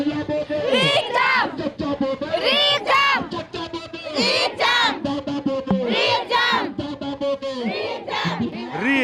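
Girls at a student protest demanding a re-exam chant slogans together, loud crowd voices rising and falling in repeated bursts through the whole stretch.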